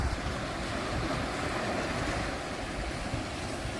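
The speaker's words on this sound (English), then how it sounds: "I love watching the waves lap the shore." Ocean waves lapping the shore at sunset on Rottnest Island, a continuous broad wash of surf with wind rumble across the microphone, heard without talk.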